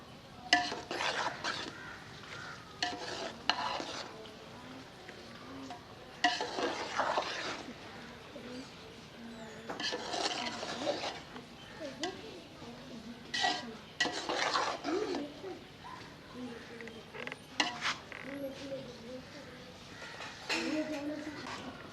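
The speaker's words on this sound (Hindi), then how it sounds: "हल्के हाथों से मिक्स कर लेंगे ताकि हमारे चावल ना टूटें" Zarda rice is gently mixed in a pot, with intermittent metallic scrapes and clinks of a spoon against the vessel in short bursts, a voice talking between them.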